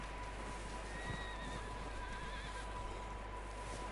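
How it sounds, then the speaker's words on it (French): A horse in the video game Red Dead Redemption 2 whinnies with a wavering high neigh, with faint clip-clop over a steady low game ambience and no talk. "Il y aura des chevaux déjà."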